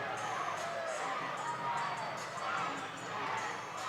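Spectators at a college gymnastics meet fill the arena with a steady, loud roar of voices that swells and dips, with a chant rising during the vault rotation.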